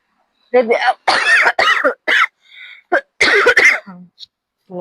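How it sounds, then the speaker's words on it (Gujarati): Several harsh coughs come in quick bursts, close and loud, separated by short silences, with a bit of throat clearing. "ખોટી ખોટી ઉધરસ આવે ને"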